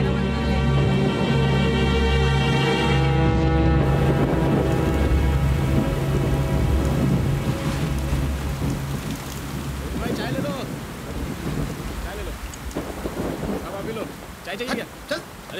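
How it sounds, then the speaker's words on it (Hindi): Rain falls steadily with rumbling thunder, a loud low roar at first that gives way to patter and splashing as voices talk over it. "ए बारिश आने वाला है"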